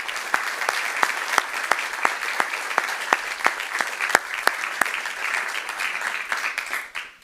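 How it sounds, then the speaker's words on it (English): An audience applauding at a Burbank city council reorganization meeting, sustained hall-filling clapping with sharp individual claps standing out, tapering off at the end. "would you please all join me in applauding our outgoing First Lady of Burbank?"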